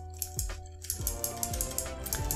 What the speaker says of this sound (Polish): jak klikamy lochy, no to ten Enter dosyć mocno spamujemy i tak to brzmi